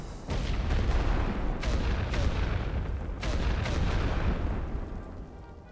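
An artillery barrage in the First World War strategy game The Great War: Western Front rumbles as a dense, continuous roll of booms and blasts, loud and sustained with brief peaks, and no speech over it.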